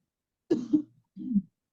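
A woman coughs during a healing coughing technique session, giving a short double cough and then one rougher throat-clearing cough, close and clear against silence.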